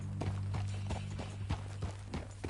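Horse hooves clip-clopping on a ranch in the video game Red Dead Redemption 2, a steady rhythmic series of soft hoof thuds at walking pace over a low background hum.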